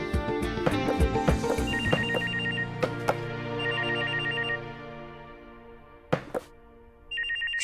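A telephone rings in repeated bursts of an electronic trill over a steady tonal backdrop with a few sharp knocks, then pauses and rings again.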